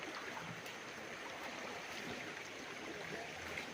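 Steady broadband rush of flowing water from a clear river running behind a rural farm lot in Cavinti, continuous and even throughout, fairly faint with no talking.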